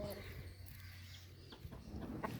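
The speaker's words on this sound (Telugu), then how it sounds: "కోళ్ళు" Chickens cluck in short bursts against a low background hum, with a few sharper calls toward the end.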